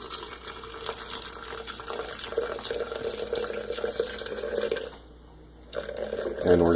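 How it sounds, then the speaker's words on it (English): Water pours steadily and slowly into a French press over coffee grounds with a splashing, trickling sound, pausing briefly near the end before resuming. "we're going to pour it in kind of slowly so we can kind of get all the grounds covered"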